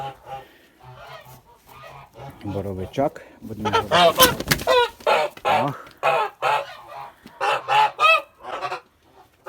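Several Kholmogory geese, about 4.5 to 5 months old, honk loudly in repeated bursts close by, with a person speaking briefly between the calls.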